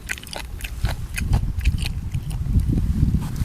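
Close, loud crunching and biting of crisp, slightly sour fermented beef sausage, with rapid crackly chews repeating steadily throughout and no talking.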